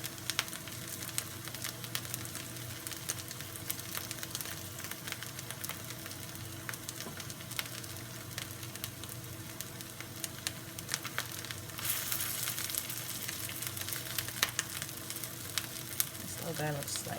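Vegan mushroom longganisa frying in a pan, a continuous crackling sizzle with occasional stirring scrapes, close and fairly quiet, growing a bit brighter toward the end.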